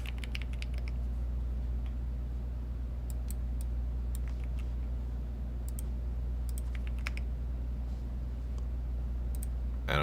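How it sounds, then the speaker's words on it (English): Typing on a Bubble 75 keyboard gives sparse, quiet clicks and key presses in small bursts, heard alone over a steady low hum. "The keyboard that I use is called a Bubble"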